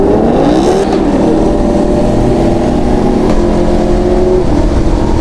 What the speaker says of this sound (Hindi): इस हायाबुसा की मैं बात कर रहा था with 2 brother exhaust system with white and blue colour scheme.